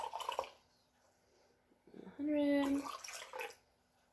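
Water poured from a container into a coffee cup on a kitchen scale, a short rising gurgle lasting under a second, with a person talking before and after.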